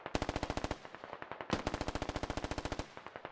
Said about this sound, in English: We got a lot of bullets coming in and over.